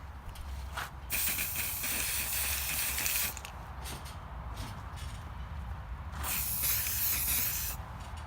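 Spray primer hisses from an aerosol can onto a foam prop in two long, steady bursts separated by short pauses, close and fairly loud.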